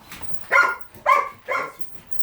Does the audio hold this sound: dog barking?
yes